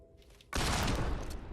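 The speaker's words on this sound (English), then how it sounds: "And kill this one with my gun, just for good measure." A gunshot fired at undead enemies in the video game Fable II bursts in after a quiet moment, a sudden loud crack that trails into a sustained noisy wash of game effects.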